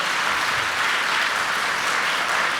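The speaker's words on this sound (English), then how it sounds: "Let's give Holly and Bob a big round of applause." Dense, steady audience applause fills the room at an annual meeting, loud and unbroken for its full length with no voices over it.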